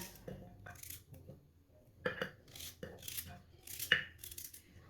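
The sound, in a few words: knife chopping turnip into small pieces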